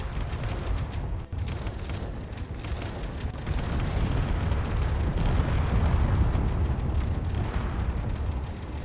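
Missile launchers in the Space Engineers game pound out a dense, continuous roar of overlapping explosions and booms, thick and loud throughout with no clear breaks.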